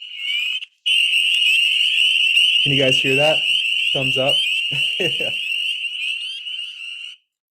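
Recorded call of spring peeper frogs, the smallest frog species native to New Hampshire, a loud continuous high shrill chorus of peeps played back for several seconds, with a person speaking briefly over it.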